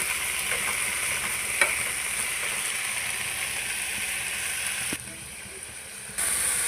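Ingredients for coriander chutney fry in a pan with a steady, close sizzle, marked by a few faint stirring clicks, before the hiss briefly drops and returns.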